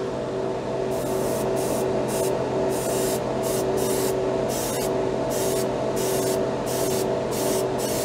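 An airbrush sprays thick Vallejo paint straight from the bottle at under 30 psi, giving a close hiss that pulses in repeated short bursts over a constant background hum.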